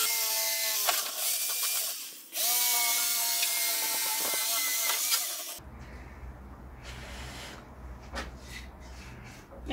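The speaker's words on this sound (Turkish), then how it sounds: "Şimdi işaretlediğimiz yerden deliklerimizi matkabın ahşap ucuyla delmeye başlıyoruz." Power drill with a wood bit boring holes in wood while building an easel, a loud whining motor through the first half that drops to a lower, quieter rumble afterward.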